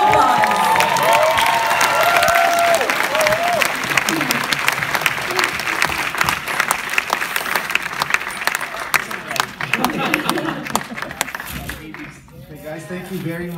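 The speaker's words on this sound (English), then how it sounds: "Please give him a round of applause." Loud theatre audience applause and cheering at the closing-show curtain call of the musical Tick, Tick... Boom!, a dense wash of clapping with whoops and shouts throughout, thinning near the end as voices emerge.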